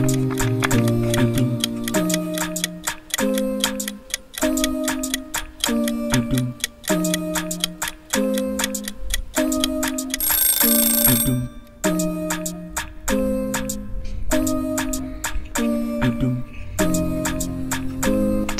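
A countdown timer ticks in a steady, regular rhythm, with clear repeated tones and a brief bright ring partway through, loud and close with no talk.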